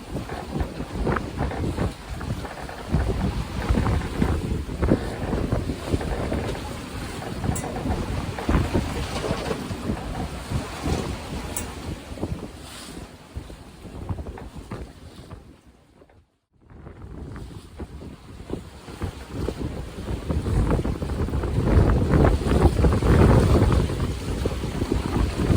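A sailboat under sail off Thailand, with steady, loud rushing wind and water noise that carries on for the whole stretch, dropping briefly to near silence partway through before building up again.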